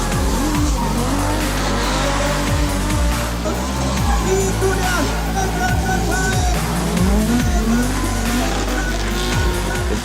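A drifting car screams past at high revs, engine whining and gear-shifting continuously while its tires squeal and skid loudly throughout, close and unbroken with no pauses.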